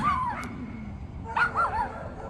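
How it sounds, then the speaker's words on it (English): A dog yips and whimpers at middle distance in two short bursts, rising and falling cries rather than deep barks, heard outdoors while someone ties fishing tackle. "Watch out for the barking dog"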